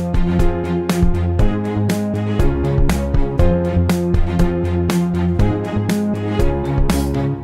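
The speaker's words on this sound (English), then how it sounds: "So it's very dry now" Piano and synth in Logic Pro X played dry with no reverb, a steady rhythmic pattern of chords with crisp percussive hits, close and even in loudness throughout.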